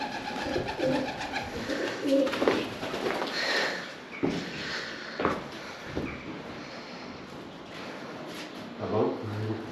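A flock of pigeons coos inside an abandoned mill in Huddersfield, overlapping calls rising and falling close by for several seconds, with occasional flutters and faint rustles.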